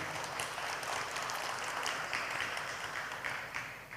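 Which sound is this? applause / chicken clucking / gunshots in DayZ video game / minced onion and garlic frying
applause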